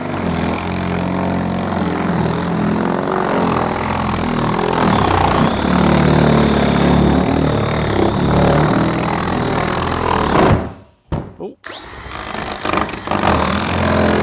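A power drill on its fast setting cuts a hole for a DIY septic system, whining loudly and continuously for about ten seconds, then cutting out briefly before spinning up again.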